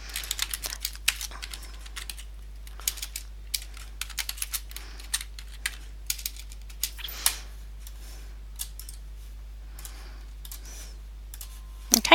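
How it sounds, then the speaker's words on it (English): Quiet computer keyboard typing, clusters of light key clicks in irregular bursts with short pauses, close and alone over a low steady hum. "I can't type today."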